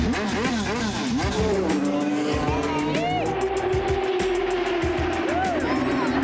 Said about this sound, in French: Le bruit, les voitures qui partent super vite.